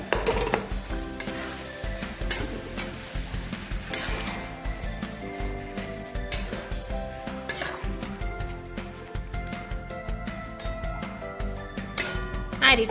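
Spoon stirring chopped dates with ghee and milk in a pan for khajur pak, a steady scraping and sizzling under soft kitchen clinks, close and continuous.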